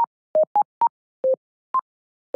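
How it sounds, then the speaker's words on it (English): Sine whistle sound effect made of a simple sine wave: a series of short, pure whistle blips at slightly varying pitches, spaced irregularly with silence between, clean and close with no voices. "I think it's a pretty simple sine wave."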